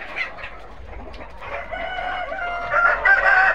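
A flock of Tiger-breed parent chickens on a farm, with a rooster crowing and hens clucking continuously, growing louder and more layered toward the end with no talking.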